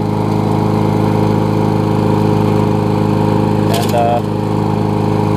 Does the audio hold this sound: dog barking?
no